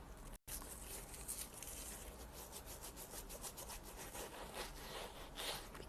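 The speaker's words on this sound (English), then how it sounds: "We're going to go in with our detail brush. And we're just going to really get in there, okay?" A detail brush scrubs a shoe in an ASMR shoe-shine session, a close, steady bristly rasping with quick repeated strokes and no talking.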